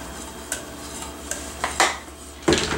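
A spoon stirs seasonings of garlic salt into mac and cheese in a crockpot, with a few soft scrapes and knocks against the pot spaced out over low background hum, growing louder toward the end.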